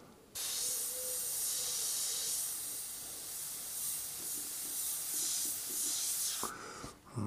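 Airbrush spraying paint while painting a skull in flesh tones: a steady, close airy hiss runs for about six seconds, then cuts off sharply near the end.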